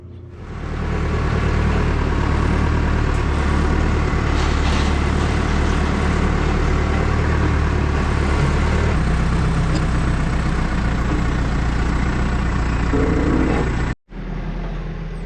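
A heavy tractor engine idles steadily and loudly at a sawmill for the whole stretch, a low constant rumble that cuts out briefly near the end and then resumes.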